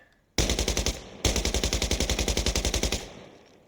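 Automatic rifle fire in Insurgency: Sandstorm at about 650 rounds per minute: two loud, close bursts of evenly spaced sharp shots, a short one then a longer string of around twenty rounds, trailing into echo, no voices.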